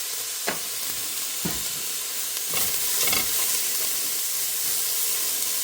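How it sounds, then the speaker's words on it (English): Onions sautéing in a soup pot with a little salt sizzle steadily over several seconds, with soft scrapes and stirs of a utensil around the pot; no one talks. "we're just going to let that saute for about 3 to 5 minutes or until a little brown"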